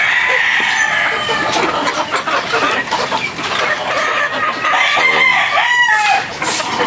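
Several nearly three-month-old chickens cluck close by while a rooster crows, layered calls overlapping in a busy farmyard.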